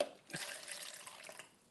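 Wet pour of eco-powder casting mix into a mold for an ornate furniture panel, a short splashing flow that swells, trickles and tapers off, quiet and close.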